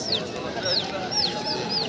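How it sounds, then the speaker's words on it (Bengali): Foreign-breed fighter chickens at a bustling animal and bird market in Nadia district make a series of quick, high chirping calls, repeating about five times over steady background crowd noise. "বিদেশি প্রজাতির ফাইটার মুরগি।"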